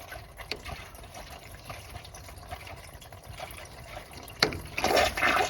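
Coolant drains out of an opened radiator in a quiet, continuous trickle and dribble of liquid, with a brief louder splash and gush toward the end.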